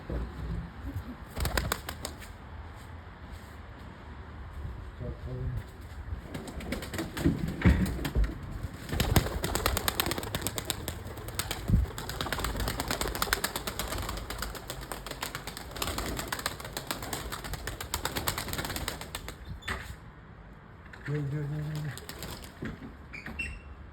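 Racing pigeons released from their loft, a burst of wing flapping and fluttering that swells through the middle and fades, with soft coos and bird calls around it and occasional handling noise.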